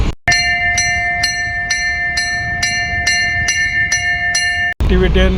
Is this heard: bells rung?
yes